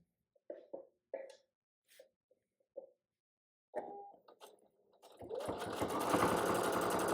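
A home sewing machine starts up and runs in a fast, steady buzz during free motion quilting. Scattered soft taps and small handling noises come first.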